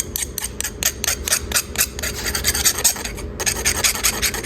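Jewelry is sanded by hand with fine-grit abrasive, a brisk rhythmic back-and-forth rasping that repeats steadily and close, with one short pause before the strokes resume.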